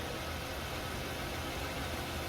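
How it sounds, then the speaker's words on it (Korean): A 2018 Genesis G80 all-wheel-drive engine idles quietly and steadily, a low even hum with no revving and no voices. "엔진 소리 들려봐 드릴까요?"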